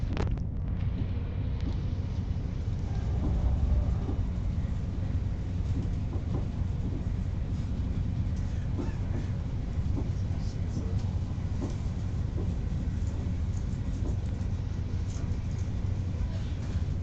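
A TransPennine Express Class 185 diesel unit departs with a loud, steady low engine drone that persists throughout, close by on a platform, with some wind buffeting on the microphone.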